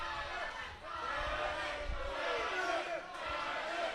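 Crowd at an Absolute Pro Wrestling show in Fort Dodge roaring and cheering for wrestler Tyler Jones, a steady loud wash of many voices that dips briefly near the start and swells again.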